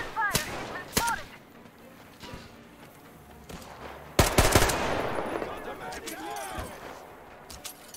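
Gunfire in the video game Metro Exodus: a few isolated shots early on, then a loud burst of rapid automatic fire that trails into a noisy clatter, with voices talking around it.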